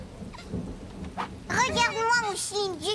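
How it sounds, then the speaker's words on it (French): Thunder rumbles in a French-dubbed Caillou children's cartoon: a low, dull roll in the opening moments, then bright warbling, whistle-like tones that rise and fall over it. "C'est le tonnerre qui lui fait peur."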